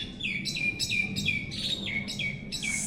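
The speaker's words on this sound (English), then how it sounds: "Man, the birds are chirping." Small birds chirping in a tree at a villa in Thailand, a regular series of sharp, high, down-sweeping chirps repeating about every third of a second over a low, steady background hum.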